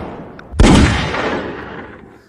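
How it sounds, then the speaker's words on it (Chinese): A single sharp, loud sniper rifle shot from a drama film, opening with a hard crack and trailing off into a long, fading echo. "有狙击手，大家快趴下！"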